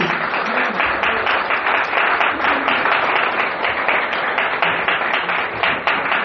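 Church congregation applauding loudly and steadily throughout, a dense wash of many hands clapping close by with no pause.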